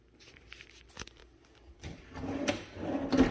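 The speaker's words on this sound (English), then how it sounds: "Does have the non-slam drawers." Soft-close kitchen drawers in a house shut with muted sliding thumps and faint wooden clicks, close by and fairly quiet, with a slight rustle between closes.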